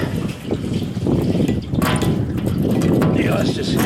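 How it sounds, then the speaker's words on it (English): Water from a hose at full blast squirting into a leaky lawn roller, a loud continuous hissing splash close by, with a person talking over it. "hear the water squirting in there"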